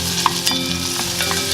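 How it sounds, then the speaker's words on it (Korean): Onions stir-fry in oil in a pot, giving a steady close sizzle with a few scraping stirs and faint clinks, and no talking. "아까 준비해놨던 양파를 볶아 보겠습니다"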